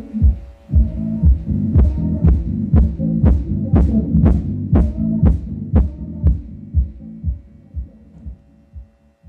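A KAM Kompact 12 Pro subwoofer pumps out the funk track Strut Your Funky Stuff as deep, regular bass thumps in a steady beat, tapering off toward the end.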